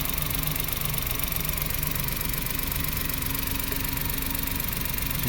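Mazda Scrum DA63T engine idling steadily, a continuous close mechanical hum with a faint rhythmic knock, no voices.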